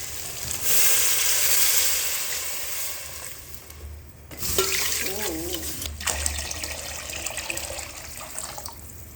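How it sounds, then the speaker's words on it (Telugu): Water is poured into a pot of rice for bagara rice, a loud close gushing stream that pauses briefly and then resumes more unevenly with splashing. "రైస్కి కావాల్సినంత వాటర్ ఎసురు వేసుకోవాలి"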